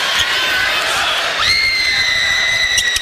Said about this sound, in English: LeBaron Philon, a well-deserved round of applause as he exits the game